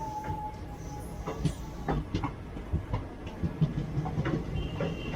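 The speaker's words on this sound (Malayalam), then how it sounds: "ഏതോ ട്രെയിൻ" Rail noise of a passing train with faint rhythmic clacks and a low rumble, heard from a 3rd AC coach, moderately distant, with no talk.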